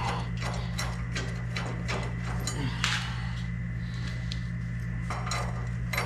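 A hand wrench works the top bolt of a coilover mount on a 1967 C10 pickup, making a run of quick metallic ratcheting clicks over a constant low garage hum, with a brief louder clank partway through.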